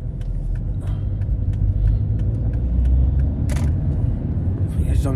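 A car engine rumbles steadily up close, with road noise and a few clicks over low continuous motor drone.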